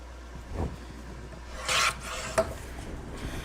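Cardstock paper is scored along a scoring board with a few short rasping strokes, one longer drag in the middle, quiet and close with no talking.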